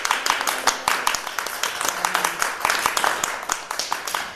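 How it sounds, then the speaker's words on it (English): Audience in New York gives a dense, brisk round of clapping for a guest at an interview event, many hands close by and steady throughout. "Sir, that applause is for you and your work"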